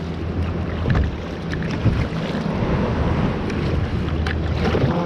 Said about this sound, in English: Big waves coming in. These are from that ship that went by a little while ago.